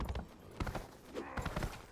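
Horse hooves clip-clopping in the medieval combat video game Mordhau, a brisk series of close hollow knocks in uneven clusters, fairly quiet.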